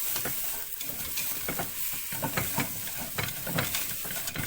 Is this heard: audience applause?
no